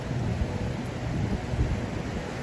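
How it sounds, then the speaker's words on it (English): Strong wind buffets the microphone in a continuous low, rumbling roar, with no voices. "it's so windy"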